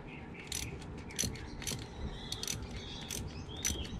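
A ratchet wrench clicks in quick, irregular bursts as the last bolt comes out of the vacuum pump on a 2008 VW Passat. The metallic ratcheting is close but fairly quiet.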